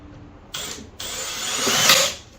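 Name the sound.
power drill driving screws into softwood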